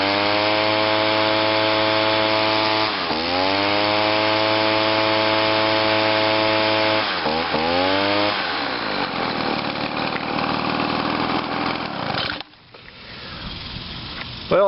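An Echo PB-2100 backpack leaf blower, its carburetor freshly adjusted, runs loud and close with a steady two-stroke engine drone. The pitch dips and recovers twice as the throttle changes, then the engine settles into a rougher, uneven idle before a brief drop near the end.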